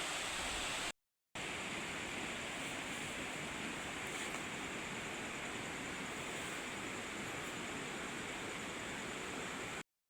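A muddy, flooded river rushes in a constant broadband roar, steady and unbroken apart from a brief cut near the start.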